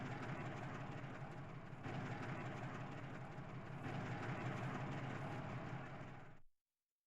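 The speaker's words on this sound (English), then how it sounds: "So there goes the train." A train passes close by, a steady loud rumble and rattle of rail cars that continues without a break and then cuts off abruptly at the end.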